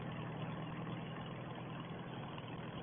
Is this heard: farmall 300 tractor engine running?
yes